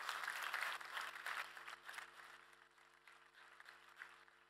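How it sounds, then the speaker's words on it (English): Audience applause at a tech conference stage event, a full burst of clapping that gradually thins and fades over several seconds. "I think we should just give all of those good people a really big applause."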